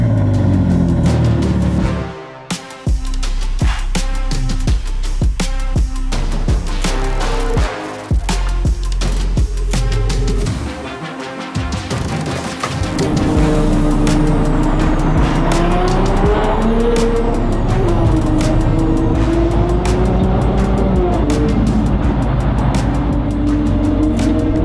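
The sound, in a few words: custom car driving, revving and tire squeal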